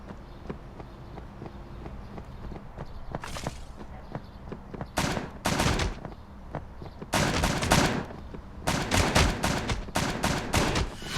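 Gunfire in a Brawl Stars style battle game, with sharp bursts of rapid shots coming in clusters that grow denser toward the end, over low game background sound.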